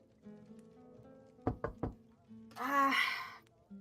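Three quick wooden knocks on a door in a tabletop roleplaying session, close and crisp in fast succession, set between stretches of conversation, with a voice speaking right after.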